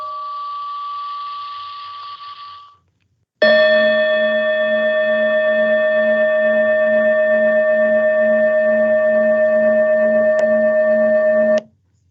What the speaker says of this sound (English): please listen to the sound of the bell